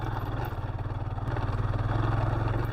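A Royal Enfield Himalayan climbs a steep dirt hill in the Flinders Ranges, its single engine thumping in a steady, rapid rhythm, loud and close with a faint clatter of the track underneath.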